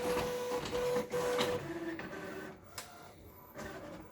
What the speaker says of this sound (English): Okay, it's printing now.